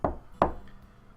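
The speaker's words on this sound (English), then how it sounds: "I hear a knock from the door" Two firm knocks on a wooden door, one then another a short pause apart, close and dry, each with a brief hollow ring and nothing else around them.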